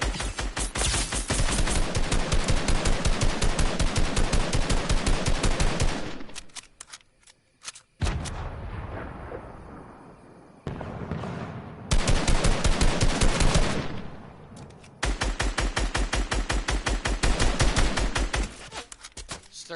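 Rapid automatic gunfire in the Fortnite video game, loud close bursts of dense repeated shots broken by short pauses and quieter gaps, with no talking.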